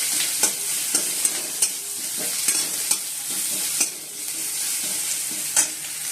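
Fish oil sizzling in a hot pan on a home kitchen stove while spices are stir-fried, a constant bright frying hiss broken by repeated sharp scrapes and taps of a spoon against the pan, with no talking.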